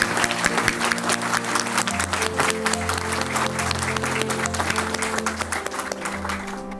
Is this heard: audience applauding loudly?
yes